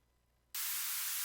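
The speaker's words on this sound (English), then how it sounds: "That is the white noise." White noise sample used in music production switches on abruptly after half a second, a loud, steady broadband hiss that holds at full level to the end over a faint low hum.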